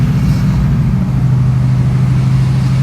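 A car driving with a newly replaced driveshaft, a steady low engine and drivetrain drone close up, with a slight shift in pitch partway through and no talking.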